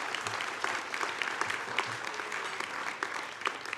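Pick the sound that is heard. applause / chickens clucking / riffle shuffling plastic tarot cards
applause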